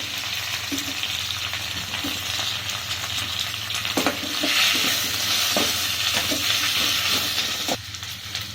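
Onion sauteing with cumin seed and curry leaves for instant sambar, a steady close sizzle and hiss with occasional clicks of stirring.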